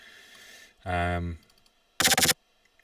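Two short bursts of a chomper synth preset in a tech step drum and bass style: a buzzy, harmonic, growling note, then a gritty, stuttering chop, each about half a second long and separated by near silence.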